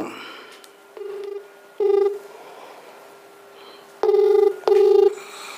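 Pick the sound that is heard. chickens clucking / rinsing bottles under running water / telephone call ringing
telephone call ringing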